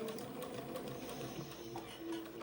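A sewing machine stitches a bias strip onto a French Acadian sundress, its needle running in a fast steady mechanical rattle close by, alone without talk.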